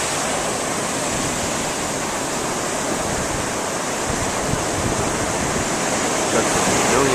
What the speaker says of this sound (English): at the waves coming in.